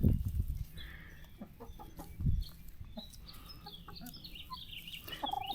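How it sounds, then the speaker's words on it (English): Broody hens clucking in a backyard flock, a series of low, irregular clucks and soft murmurs at close range, with a few louder bursts scattered through a quiet outdoor setting. "We got one chicken, super broody, sitting on them all day."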